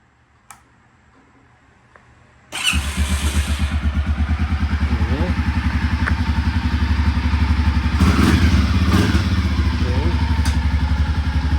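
An ATV or motorcycle with a stuck pedal brake, raised off the ground so its tires spin, starts after a short quiet with a few clicks, then idles steadily with a loud, even, rapid thumping beat and some mechanical ticking.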